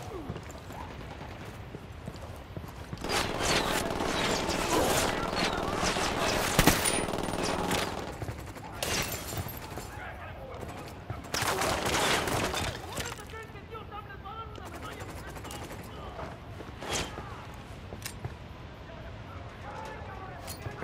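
Ghost Recon Wildlands video game gunfire: two long volleys of sustained automatic fire with scattered single shots between them, loud and busy, with voices shouting underneath.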